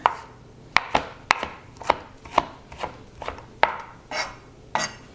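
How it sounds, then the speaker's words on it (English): A knife chops spinach leaves into small strips on a cutting board, a series of about ten crisp, close, evenly spaced thuds in a steady rhythm, with no talking. "that was about a cup of spinach leaves that I chopped"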